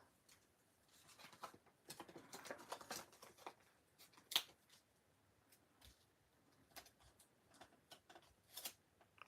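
Scissors cutting a paper sheet during card making, faint scattered snips and crisp clicks with quiet handling noise between them, close but soft.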